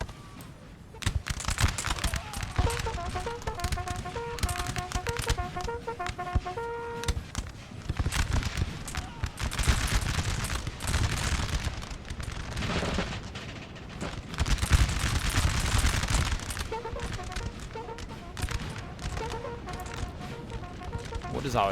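Artillery and musket fire from a Napoleon: Total War battle recreating Trebbia 1799 crackle in dense, irregular volleys of sharp bursts, heavy booms mixed in, sustained and loud with brief lulls.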